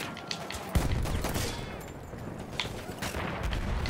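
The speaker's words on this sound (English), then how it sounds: "Oh, I'm under fire." Rapid gunfire in a Battlefield 1 match, dense overlapping shots and bursts crackling continuously for several seconds, loud and close with distant battle noise behind.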